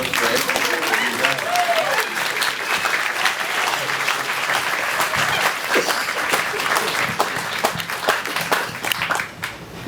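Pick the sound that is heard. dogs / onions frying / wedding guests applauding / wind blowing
wedding guests applauding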